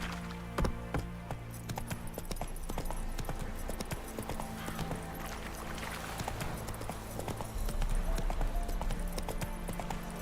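Hooves of the horse Roach clip-clop rapidly and continuously at a gallop in The Witcher 3, a steady rhythmic pounding with faint tack jingles throughout.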